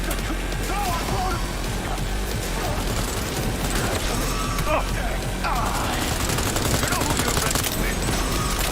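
Machine gun fire in Cyberpunk 2077, sustained bursts of rapid shots layered with impacts and game effects, with someone talking excitedly over the shooting.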